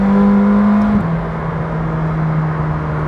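Engine of a McLaren Senna hums steadily under load in second gear, a loud, smooth drone whose pitch drops slightly about a second in and then holds, with no talking.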